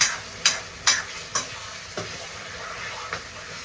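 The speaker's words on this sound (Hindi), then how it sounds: "साग को तड़का लगाया जा रहा है" Tadka being stirred and fried for saag: a spoon scrapes and clinks against the pan in a few sharp, irregular strokes over a soft, steady sizzle, close by with no talk.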